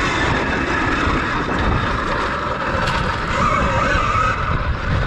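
Electric KTM Freeride E-XC dirt bike, a 2020 model, held at half throttle on a sandy track, giving a steady, dense motor whine and rush of wind and terrain noise that stays constant and close throughout.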